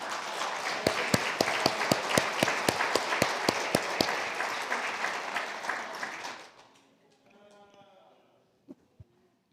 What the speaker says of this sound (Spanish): Démosle un aplauso a Guatemala